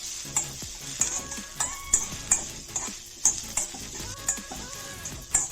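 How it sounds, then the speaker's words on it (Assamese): Mashed fish frying in a pan, a steady soft sizzle broken by repeated sharp scraping stirs at a brisk, uneven rhythm, close and fairly quiet with no talking. "প্ৰায় ভাজা হৈ গৈছে, অকণমান ৰঙচুৱা হৈছেই। আৰু অকণমান আৰু ভাজা হওক"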